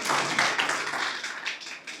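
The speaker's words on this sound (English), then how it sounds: "Please give a warm clap for Director Sir." An audience applauds the director as he comes on stage at an International Women's Day celebration at ACE Aligarh: brisk, steady clapping from many hands, moderately distant and fairly soft, with no voices.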